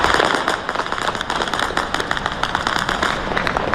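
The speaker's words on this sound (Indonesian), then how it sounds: "rentetan senjata dan ledakan terdengar di berbagai titik kota Erbil" Rapid crackling bursts of gunfire and explosions in the city of Erbil, Iraq, dense and continuous, echoing across a wide area without pause.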